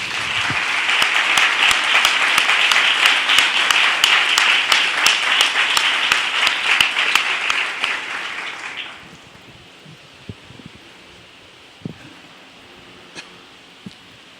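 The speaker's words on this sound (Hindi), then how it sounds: "जोरदार तालियां बजाएं" Loud, dense applause from a church congregation during a Hindi sermon, sustained for about nine seconds before cutting off into a quiet room with a few faint knocks.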